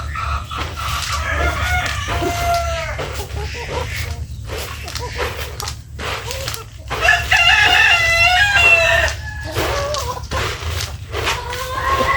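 Chickens cluck continuously nearby while a rooster crows loudly midway through, over a steady low background hum.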